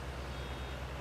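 A vehicle in Farming Simulator 19, on the Sosnovka map, gives a steady run of reversing beeps over a low engine drone, quite faint and with no talking.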